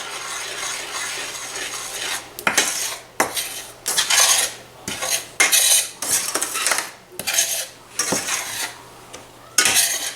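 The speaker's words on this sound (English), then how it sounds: "I'm going to keep on stirring" A spoon scrapes and clanks against a pot while peanut butter fudge mixture is stirred, in repeated rhythmic strokes that sound close and fairly loud, with no one talking.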